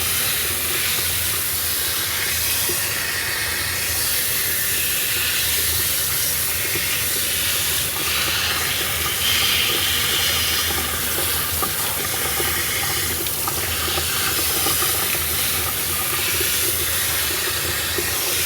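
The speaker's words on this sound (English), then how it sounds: "we're going to rinse this one section until it runs clear" Running water rinses a dog's leg during a grooming session, a steady, full hiss of spray that keeps going without a break for the whole stretch.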